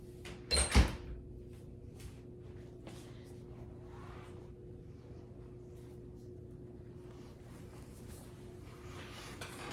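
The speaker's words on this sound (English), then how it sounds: "I need to shut my front door because cars are going by" A front door swings shut with a single close thud near the start, then quiet room tone with faint traffic passing outside.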